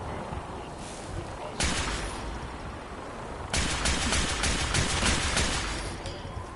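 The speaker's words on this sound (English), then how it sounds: "What are we shooting at?" Gunfire and combat din in Fallout 4, two loud dense bursts of shooting with a rumbling wash of noise between them.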